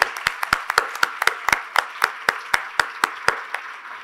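Sparse audience clapping at a restorative justice event, a handful of distinct, fairly close claps in an uneven rhythm that thins out toward the end, with no talk.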